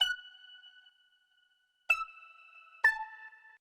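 A plucky synth with overdrive plays three sharp plucked notes, each with a bright, buzzy attack and a ringing tone that decays. The first note sustains longest, and the last two come close together.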